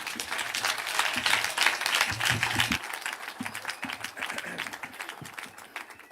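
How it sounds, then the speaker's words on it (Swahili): A crowd at a funeral gathering applauds to welcome the president, sustained rapid clapping from many hands with a faint voice underneath, easing slightly toward the end. "Tungetaka kwa heshima tumpigie makofi, tumkaribishe rais wetu."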